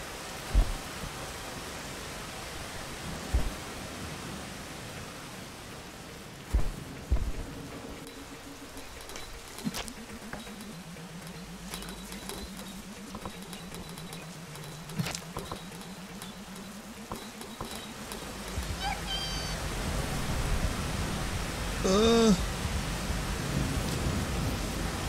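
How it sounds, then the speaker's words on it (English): Steady rain hiss in the game Rain World rises gradually and grows denser toward the end, with a low droning tone, scattered clicks and a few sharp thuds, and no voices. "The rain had to start up right there."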